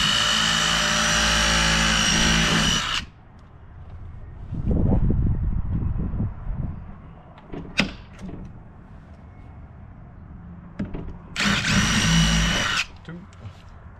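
A power drill bores holes for a hasp on a shed door, with two loud bursts of high-pitched whirring, one at the start and one near the end, separated by quieter handling noises and a voice.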